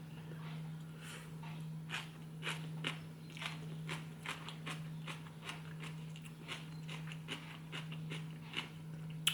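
Crisp, crunchy bites of stir-fried tofu, heard as a steady series of close, short crackling chews repeating through the whole stretch over a constant low hum, with no talking.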